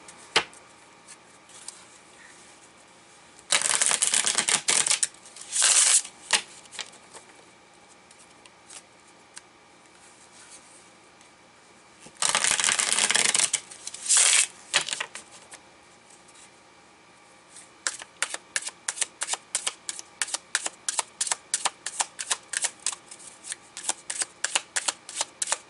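Tarot cards riffle-shuffled in several bursts, then a quick run of crisp rhythmic snaps as the deck is bridged and tapped, close up with no talking.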